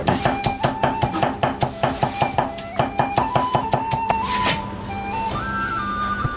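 Close, rhythmic knife blows mince smashed garlic cloves on a cutting board, a quick even series of sharp thuds that fades into a quieter steady hum near the end.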